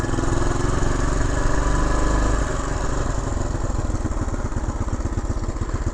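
A 1972 Honda XL250 motorcycle engine runs nearby in a loud, steady putter, with its rapid firing pulses becoming more distinct after a brief change in tone partway through.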